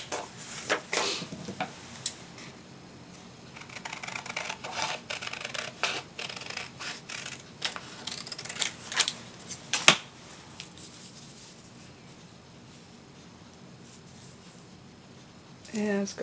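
Paper strips cut at an angle against a ruler, with scattered close scraping, rubbing and snipping sounds that come in bursts over quiet stretches.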